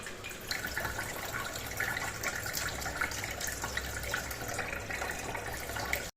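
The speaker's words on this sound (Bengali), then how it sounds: "আরও একবার জল দিয়ে ধুয়ে নেব চালটা।" Gobindobhog rice being rinsed in water in a bowl, a steady close splashing and trickling wash with faint tap-like running water throughout, no voices.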